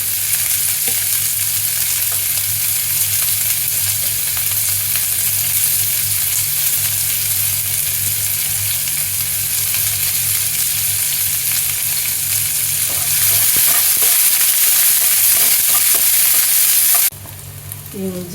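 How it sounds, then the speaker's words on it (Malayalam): Spices for chana masala fry in hot oil with a loud, steady sizzle and crackle, close up, continuing throughout, with a brief shift near the end. "ഓയിൽ ഒഴിച്ച് ചൂടായി വരുമ്പോൾ അതിലേക്ക് സ്പൈസസ് ഇട്ട് കൊടുത്ത്"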